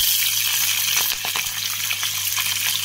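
Green chillies fry in hot oil with mustard seeds, cumin, chana dal, curry leaves and ginger for a pulihora tempering, giving a steady close sizzle with occasional faint clinks of stirring throughout.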